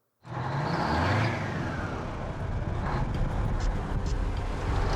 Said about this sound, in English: The General truly is an embarrassing truck to drive.